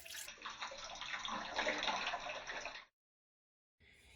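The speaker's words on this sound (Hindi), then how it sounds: "ये अखरोट का पानी है, तो अब मैं यहाँ पे बोतल में डाल के इसको सेव करके रख" Walnut water poured into a bottle, a steady close liquid stream lasting nearly three seconds before stopping abruptly, followed by a short silence and a brief faint trickle.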